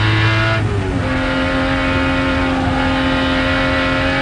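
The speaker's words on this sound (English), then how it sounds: "particularly with the brute strength of the Jaguars touring Mt Panorama the way they are at the moment" A 1985 TWR Jaguar XJ-S V12 touring car racing around Mount Panorama at Bathurst, heard from inside the car as a loud, steady, close engine drone with a quick pitch shift early on, then sustained high revs.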